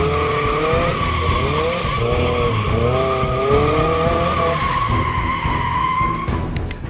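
A Mazda Miata on old Model A style tires slides, with the tires squealing in wavering, warbling tones over a steady engine drone, loud and close throughout, ending with a brief rattle.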